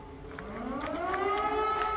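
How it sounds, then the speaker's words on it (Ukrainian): A civil defense air raid siren wails in the evening in Kharkiv, its rising tone swelling steadily and sustained at moderate distance, with no talk over it. "І тривога лунає."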